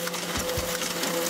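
An offset printing press runs steadily, a loud continuous mechanical whir with a faint tonal hum and a couple of soft low thumps, alone without speech.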